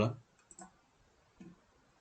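A computer mouse clicks a few times, sharp and faint, with a louder tap at the start and quiet gaps between clicks.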